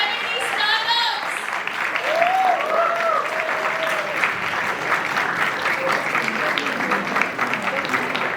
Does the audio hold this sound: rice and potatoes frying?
no